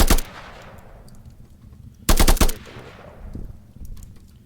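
Gunfire from a weapon in a video game, a single sharp shot followed by a quick rapid burst about two seconds later, loud and close with short decaying echoes.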